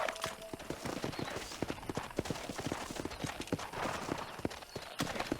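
Horse hooves clip-clop steadily in the Xbox 360 game Red Dead Redemption while herding cattle to pasture, a continuous rhythmic trot heard close over a dense outdoor game ambience.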